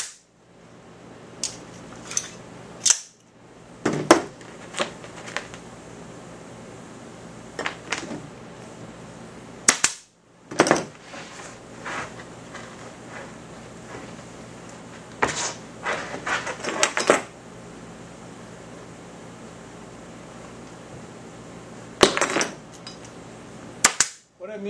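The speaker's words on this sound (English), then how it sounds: "I'm taking the staple gun and kind of tipping it to the side so only one tong of the staple goes in to hold it" A staple gun drives staples into upholstery fabric on a dining chair, sharp snapping shots scattered irregularly over quiet gaps, some single and some in quick clusters, close and clear with no talk.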